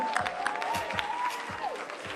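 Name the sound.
audience applause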